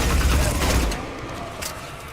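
SMG fire in Mass Effect 3: a rapid burst of booming automatic shots in the first second, then clicking, rattling mechanical sounds as the firing stops.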